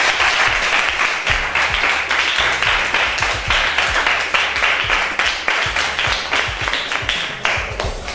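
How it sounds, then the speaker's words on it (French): A group of children claps at a charity foundation event, dense, loud applause carrying on steadily for several seconds with individual sharp claps standing out. "les enfants, est-ce qu'on peut s'applaudir parce que vous êtes des champions?"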